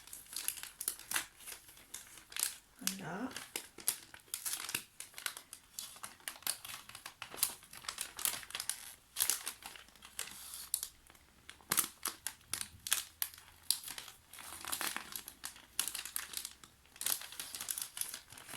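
Tape being peeled and gift paper unwrapped from an advent calendar box, a run of close, crisp crinkles and tearing bursts with brief pauses and a short spoken word.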